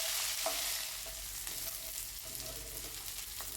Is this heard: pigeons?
no